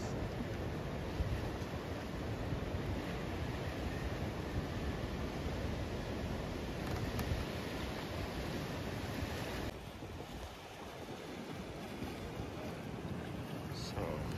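Ocean waves and surf roar steadily at the end of a boardwalk in Siargao where surfers ride, a broad continuous wash with wind buffeting the microphone, dipping slightly partway through.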